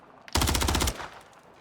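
Rapid burst of automatic machine gun fire in a gunfight in the video game Modern Warfare 3, a loud, close string of evenly spaced shots lasting about half a second before dropping to quiet.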